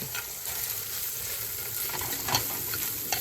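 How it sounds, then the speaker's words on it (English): Shrimp and lemongrass sauté in a pan with an even, close sizzle, broken by a couple of soft stirring scrapes, with no talking. "Oh, the shrimp smells so good in the lemongrass. Saute that all up."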